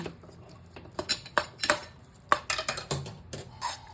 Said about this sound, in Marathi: तुम्हाला पुन्हा एकदा सांगते पुरण सतत ढवळत राहायचं